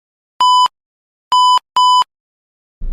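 A metal detector sounds over a target with three crisp, identical electronic beeps: one, a pause, then two quick ones close together, loud and clear against silence.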